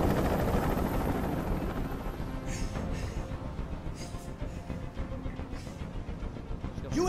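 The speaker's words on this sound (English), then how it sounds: "I can't stand that noise anymore. Tell that helicopter to get out of here." A helicopter hovers in the video game Detroit: Become Human, a steady, loud rotor rumble and whir that runs throughout without a break.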